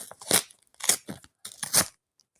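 Several short bursts of crinkly, tearing plastic from a packet being torn open, close up, with brief pauses between them.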